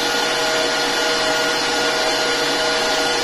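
Electric mixer whipping egg whites with granulated sugar toward medium to stiff peaks, giving a loud, steady whirring drone that runs unbroken throughout with no talk.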